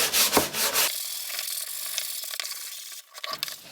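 Hand sanding a wooden door with 120-grit sandpaper, a few close, rough rubbing strokes with a brief quieter pause between bursts, no voices.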